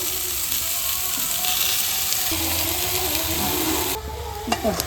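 Jaggery melting in a pan with a little water while making homemade mango pickle, giving a steady close sizzle and bubbling hiss, with a few clinks and stirring scrapes near the end.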